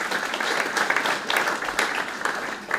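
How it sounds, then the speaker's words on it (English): Mourners at a funeral service for Fiona Stewart clap together, a steady dense patter of applause filling the room for a few seconds with no voices over it. "Ladies and gentlemen, a clap, please. A clap."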